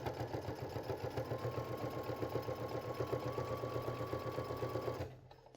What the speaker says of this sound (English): I'm stitching down this fabric